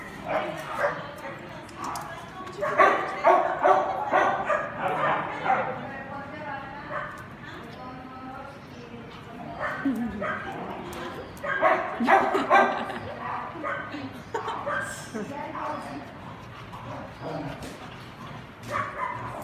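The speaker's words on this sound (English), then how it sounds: "She's a big puppy." A big puppy barks, yips and whimpers in uneven bursts close by, with people talking over and between the dog sounds.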